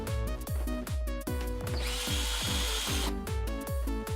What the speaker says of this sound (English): drill a hole to fit a reducer bushing